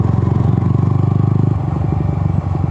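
A Yamaha XSR 155 motorcycle rides off-road, its single-cylinder engine thrumming at a steady, pulsing beat close by, dropping to a lower, bumpier chug midway through.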